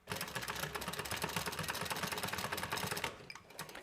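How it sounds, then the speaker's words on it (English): A sewing machine stitches across the bottom of a small fabric bag, running in a fast, even mechanical patter for about three seconds before slowing and stopping, close and clear. "we're going to stitch just a little bit at the bottom"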